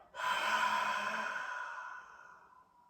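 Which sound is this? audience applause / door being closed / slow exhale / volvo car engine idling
slow exhale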